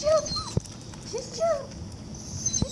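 A blind Border Collie at a swimming pool gives soft, high whimpering whines, a few short rising cries spread through the moment, with a person speaking briefly nearby.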